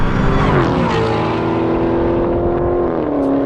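A Dodge Charger Hellcat accelerates hard in a street race, its supercharged V8 roaring loud and close with rising engine pitch, a gear shift, then climbing again, with no voices.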